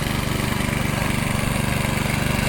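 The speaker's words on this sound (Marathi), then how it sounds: "ट्रॅक्टर आता परत खाली उतरता इकडे भांग्यात घेऊन चाललेलो आहात" A farm tractor heads down into a paddy field during first monsoon ploughing in the Konkan, its engine chugging close and loud in a rapid, even pulsing throb.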